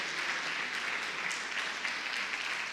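A church congregation claps together during a Sunday morning service, a soft, even patter of many hands heard from a distance, steady and unbroken for a few seconds.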